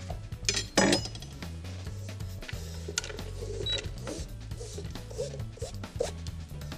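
Metal pots and utensils clank and clink as food goes into a cooking pot, with one loud knock near the start followed by lighter handling clatter over faint background music.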